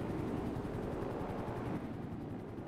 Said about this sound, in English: Oh, the police helicopter's back up.